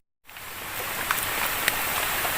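Steady rain falls in a forest, a dense even hiss of drops on leaves with a couple of brief louder drips standing out, moderately near and without voices.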